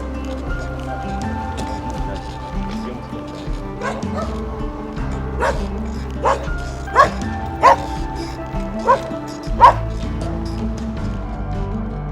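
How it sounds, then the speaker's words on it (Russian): Several dogs bark and yip at a distance along a winding mountain road, short sharp barks scattered through the latter half over a low rumbling background with some talk. "Все собаки обругали меня."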